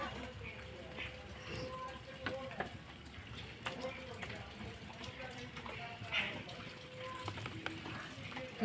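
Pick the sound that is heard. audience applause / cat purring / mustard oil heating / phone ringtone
mustard oil heating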